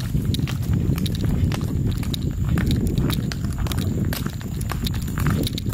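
Horse hooves clip-clop at a steady walking pace during a ride, close and fairly loud, with a continuous low rumble of movement underneath.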